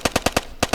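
Gunfire from a gun in a VR shooter game on Oculus Quest 2, a rapid burst of about seven loud, sharp shots in a fast regular rhythm with a brief pause near the end, no talking.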